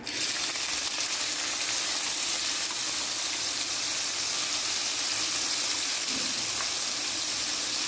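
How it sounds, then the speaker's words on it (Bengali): Dried fish (shutki) fries in hot oil in a wok, giving a loud, steady broadband sizzle and hiss that runs without a break, with no voices. "কড়াতে তেল দিয়ে দিয়েছি দেখো এখন মাছটাকে আমি ভালোভাবে ভাজবো"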